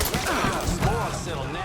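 Gunfire and bullet impacts from the open-world crime game Mafia III, a dense busy clatter of shots and hits filling the whole moment alongside other game noise.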